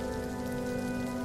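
Steady rain falling on muddy farm fields in cold weather, a dense continuous patter that stays even and moderately loud throughout, with no voices.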